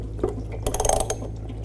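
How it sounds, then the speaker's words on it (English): Engine coolant drips and trickles out during a repair after a sealed part is separated, making a short run of close, wet splashes that stop after about a second. "you're going to hear some coolant dripping"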